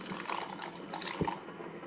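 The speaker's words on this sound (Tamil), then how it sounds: "இதில் தண்ணி சேர்த்துக்கலாம்." Water poured into a pan for payasam, a close, quiet splashing trickle with a few bright drips, steady for under two seconds.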